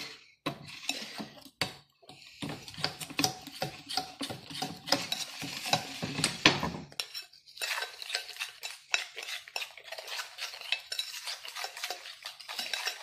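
Flour and sugar are stirred into a cake batter in a bowl, with busy scraping and clinking of a utensil in bursts, then a quieter, lighter stirring in the second half.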